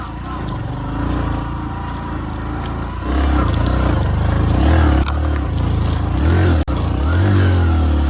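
A motorcycle engine drones loudly and close by on a quiet forest road near Hoshiarpur in the early morning. It revs up partway through, with a brief cut-off near the end before the engine picks up again.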